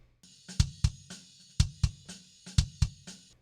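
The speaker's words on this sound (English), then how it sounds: "and then here's the live kick" A live kick drum from a metal mix hits in tight pairs of punchy, low thumps with a clicky attack, repeating three times in a steady rhythm, dry and close with no other sound.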